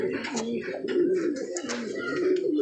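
Pigeons in a newly built coop coo steadily and close by, soft repeated throaty calls overlapping through the whole stretch with a few brighter chirps on top.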